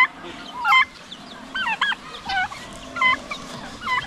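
Farm turkey calling in a string of short, bright gobbling bursts, five or six calls spread evenly at moderate loudness over quiet outdoor background, with no talking.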